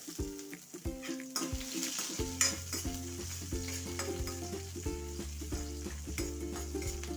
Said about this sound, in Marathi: कांदा टाकून तो पण परतून घेऊया